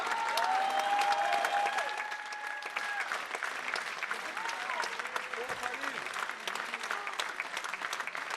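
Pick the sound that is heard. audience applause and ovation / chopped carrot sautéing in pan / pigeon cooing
audience applause and ovation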